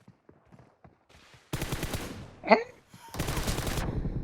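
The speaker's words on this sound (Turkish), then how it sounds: "Aga be çok vurdum. Lan 117 vurmuşum Tolga." Gunfire in a PUBG Mobile team deathmatch. Faint scattered shots and footsteps come first, then two sustained loud bursts of rapid automatic fire, split by a brief sharp blast.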